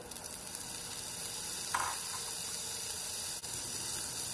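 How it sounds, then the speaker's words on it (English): Spam sizzles in hot olive oil in a large pan on medium-high heat, a steady, close hiss of frying with a brief louder crackle partway through and no talking. "When your pan is hot, add in your olive oil, then put in your spam."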